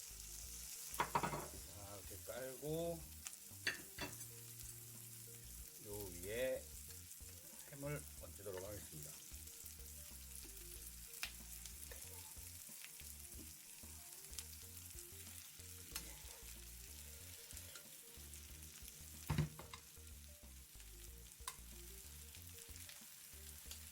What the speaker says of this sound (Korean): 음, 아까 남은 마늘도 같이 넣고 볶아주도록 하겠습니다.